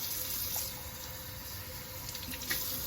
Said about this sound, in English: You rinse all the slime off.